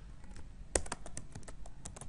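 Quiet keystrokes on a computer keyboard entering a DNS address, an irregular run of light clicks with one sharper tap near the start, close and alone.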